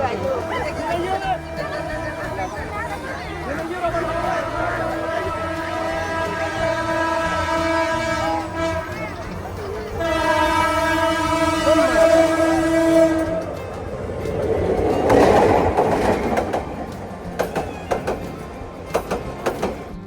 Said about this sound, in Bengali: তারপর কি আর হঠাৎ করে চলে আসলো ট্রেন